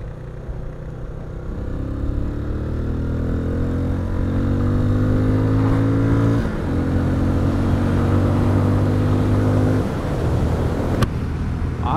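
A Benelli 400 Imperiale motorcycle accelerating on the road to overtake a camper van: a steady engine drone rising in pitch through the gears, continuous and fairly loud, with wind rush around it.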